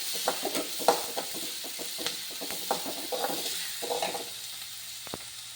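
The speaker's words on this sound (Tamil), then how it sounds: "இப்போ இந்த வெங்காயத்தை போட்டுக்கலாம் இந்த வெங்காயம் நல்லா வதங்கணும்" Onions sizzling and crackling in a hot pan over low flame, sautéed for vegetable puffs, with irregular popping bursts and occasional stirring scrapes, close and moderately loud.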